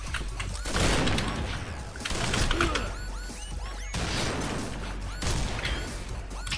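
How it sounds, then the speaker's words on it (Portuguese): Rapid gunfire from the video game Combat Arms crackles in dense bursts with sharp cracks and thuds, loud and layered over a low background drone, with no talking. "Esses tiros zoados"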